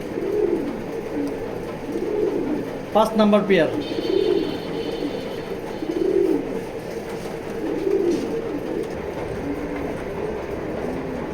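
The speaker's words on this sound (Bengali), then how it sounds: "অনেক ভালো কবুতর" Racing pigeons cooing in a loft, soft repeated low coos recurring every couple of seconds over a steady background hum, with someone speaking briefly partway through.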